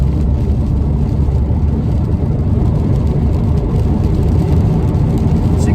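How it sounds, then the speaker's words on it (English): A 2021 BMW 2 Series Gran Coupe M Sport in sport mode accelerates after a downshift, its engine giving a loud, steady, low drone with road noise throughout, and no one speaking. "Let's drop it down a gear and give us some gas."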